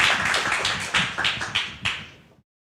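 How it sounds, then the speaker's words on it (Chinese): Small group at a church prayer meeting clapping to welcome a teacher, a brief patter of hand claps in quick rhythm, close by, fading out after a couple of seconds. "然后我们鼓掌来欢迎。"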